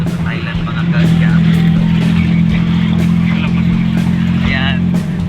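Tuk-tuk ride in Bangkok, Thailand, a steady close engine hum and road rumble running under nearly continuous talk from passengers, with brief louder bursts of voices over the drone.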